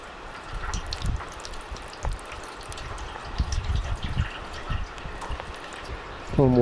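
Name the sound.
water pouring through a pipe into a tank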